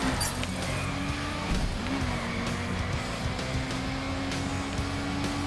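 Drift car driving in The Crew Wild Run racing game, with a steady engine drone and tyre noise running continuously throughout, fairly loud, with no talk over it.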